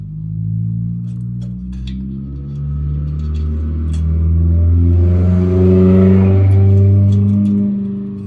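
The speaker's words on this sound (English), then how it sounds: "Goodness, that's a loud car." A Dodge Challenger Hellcat with an active exhaust delete revs hard close by, a loud deep engine roar that climbs and swells through several throttle blips with no talk over it.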